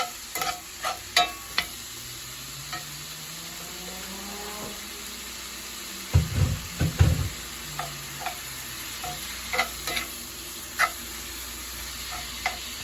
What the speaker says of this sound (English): So I brown the turkey first in the pot when it's nice and hot.